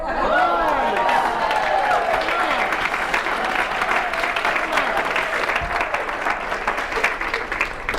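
An audience at a public speaking talk breaks into steady clapping that fills the room for several seconds, with a speaker's voice heard over the applause.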